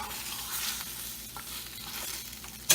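Eggs and cheese for tortillas con huevo being stirred in a hot pan, a steady sizzle with soft scraping strokes throughout and a sharp clink near the end.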